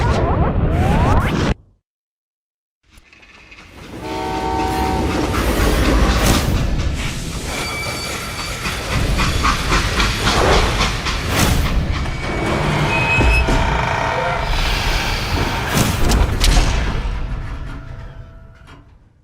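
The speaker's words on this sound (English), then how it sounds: "They hopped a freight train," A freight train in the Western shooter Call of Juarez: Gunslinger rumbles and clatters with metallic screeches and whooshing rushes, loud and continuous after a brief silent gap near the start.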